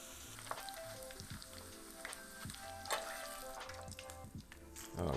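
Food frying in hot grease for a taco soup, a steady crackling sizzle with scattered pops and bursts of spatter close by, swelling louder toward the end.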